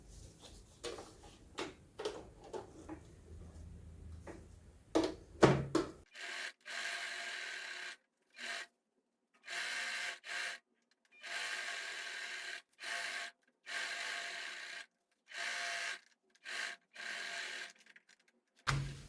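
A domestic sewing machine stitching a seam around a small men's toiletry bag, running in short bursts with brief pauses between them, close and clear, after some fabric rustling at the start.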